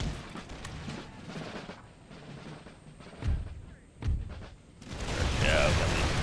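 Musket volleys in Empire Total War, in a United States campaign battle: a rumbling stretch of scattered gunfire, then two sharp, separate reports, followed by a swelling roar of battle noise with faint voices in the background.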